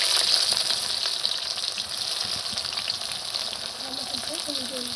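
Onions hitting hot oil in a pan while cooking chicken curry, a steady loud sizzle and crackle throughout with a few faint clinks and scrapes near the end.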